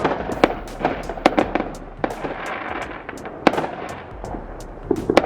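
Neighbours' Fourth of July fireworks explode in a dense, uneven string of sharp cracks and booms, some near and loud, others more distant, with a crackling wash between the bursts and no talk.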